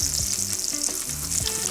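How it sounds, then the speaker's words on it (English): Wagyu ribeye steak sizzling loudly in a hot pan, a steady close crackle and hiss with faint low knocks of the pan, no voices. "That's what you want, a nice sizzle."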